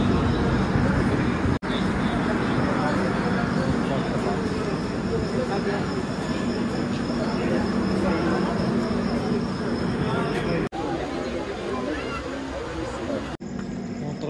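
A train bound for Goa pulls into a railway station, a loud, continuous rumbling roar that fills the whole stretch, with a few brief dropouts and voices mixed in.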